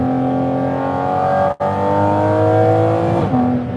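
A Porsche 718 Cayman GT4 RS engine revs hard and loud with a rising, sustained race-car howl, breaking off for an instant as it shifts before pulling strongly again.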